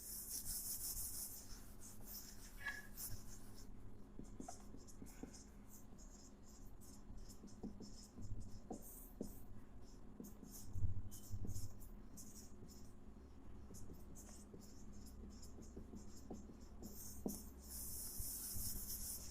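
A Class 10 quadratic-equations maths problem is written out by hand as faint, steady scratching strokes that come in short bursts, quiet and close, with occasional soft rubbing.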